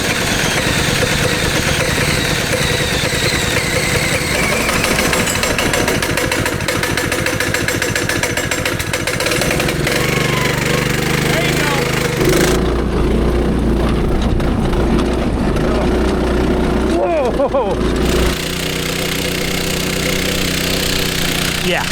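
A cheap 15 horsepower Temu engine on a go kart runs loud and close throughout, a rough, buzzing chatter that changes pitch as the kart revs, pulls away and slows, with occasional shouting voices.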